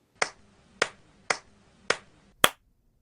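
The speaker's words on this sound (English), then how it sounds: "Clapping, clear," Five sharp, crisp claps ring out alone at an even, deliberate pace, each snapping cleanly against near silence.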